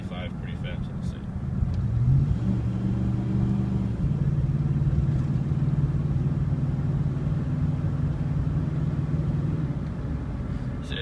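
Interior of a truck fitted with a Flowmaster Super 44 muffler accelerating toward highway speed, a steady loud low exhaust drone and rumble that holds and rises slightly, with a voice talking over it.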